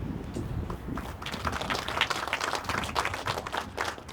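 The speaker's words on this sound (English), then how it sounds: "thank you for the applause." Applause from the gathered crowd at a bank's ribbon-cutting event, a moderate, somewhat distant patter of clapping that carries on evenly for a few seconds.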